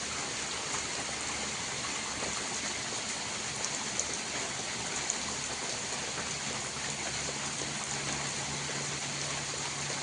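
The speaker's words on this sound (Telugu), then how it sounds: "వర్షం ఇంకా ఎక్కువ అయిపోయింది మామూలుగా పడుతున్న వాన" Heavy rain in Rajasthan pours down steadily in a dense, even hiss of water, with no voices and no pauses.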